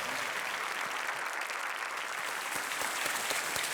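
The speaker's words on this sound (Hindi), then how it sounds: "आइए तालियों के साथ अभिजीत जी का स्वागत किया जाए।" Dense, steady applause from a studio audience on the KBC quiz show welcoming a new contestant, a continuous wash of many hands clapping close and loud throughout with no talk.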